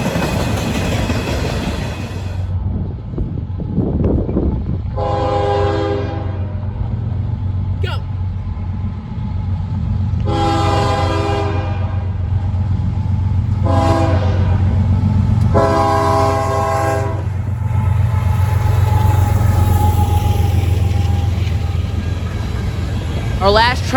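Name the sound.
NS mixed manifest freight train passing with horn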